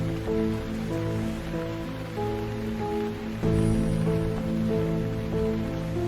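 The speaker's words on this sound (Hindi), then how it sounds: "तभी गुल्ली इन लोगों से कहता है, हम लोग कब तक इस बारिश में इसी तरह दौड़ते रहेंगे?" Rain falls steadily on a cartoon scene in a Haryanvi animation, a continuous hiss that runs the whole time beneath a sustained musical score, with no talking.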